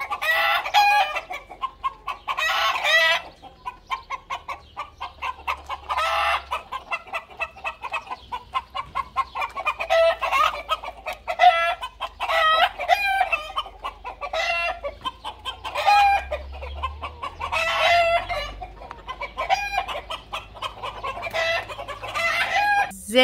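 Farm chickens on a vineyard homestead cluck and squawk in alarm, a loud, nearly continuous flock chatter with sharp repeated cries throughout.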